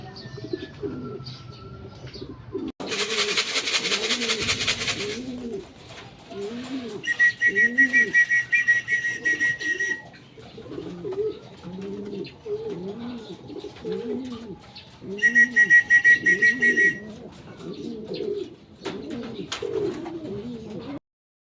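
Racing pigeons return to a loft after a training race near Tarlac and Pulilan, Bulacan, cooing steadily and close by, with a loud burst of flapping and two stretches of repeated electronic beeping.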